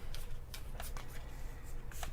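Deck of cards being shuffled for the Bees board game, a quick riffle of papery flicks and snaps close by, repeated over a couple of seconds with no talking.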